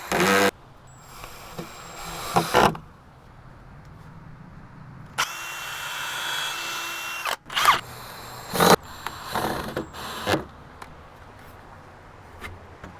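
A power drill whirs in several bursts into wood while building a raised garden bed, with a longer steady run in the middle, punctuated by clunks and handling noises, close by.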